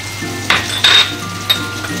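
Hotpot base with chili sauce being stir-fried in a pan, steady sizzling under a few sharp scrapes and clinks of a utensil against the pan, close up.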